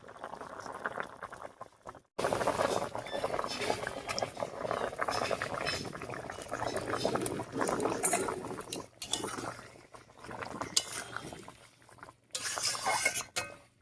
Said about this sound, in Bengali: শাকটা কাটতে কাটতে রান্নায় বলক উঠে গেছে